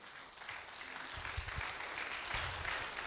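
Church congregation applauding after a sermon prayer, a moderate steady wash of clapping with a few louder low thumps partway through, no voices on top.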